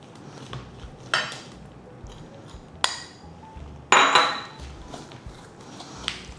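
Coffee cookie batter being mixed with hot milk and butter in a bowl, giving a few sharp utensil clinks and scrapes against the bowl amid quieter stirring, with one louder clatter partway through.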